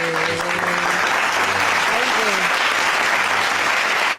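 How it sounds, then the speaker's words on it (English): Steady applause from a studio audience on a hip hop and amapiano radio show fills the space, a dense continuous patter of many hands with a voice speaking underneath, cutting off abruptly at the end. "that's a clap, that one"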